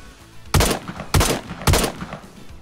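Three loud SKS rifle shots in the DayZ video game, fired at an even pace about half a second apart, each a sharp close crack with a short decaying tail.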